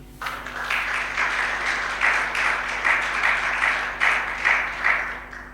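Church congregation at a French-speaking prayer marathon applauding, a dense, sustained crowd clapping with rhythmic surges of loudness that keep going for several seconds, close and full.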